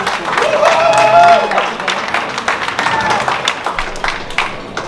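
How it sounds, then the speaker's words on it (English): Wedding reception guests clap for the bride and groom, a brief swell of applause mixed with cheering voices and chatter that fades into scattered claps. "Let's give them a warm round of applause."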